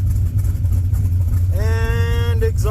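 A car engine idles at operating temperature during an oxygen sensor diagnosis, a steady low rumble close by, with a tonal whine rising over it in the second half.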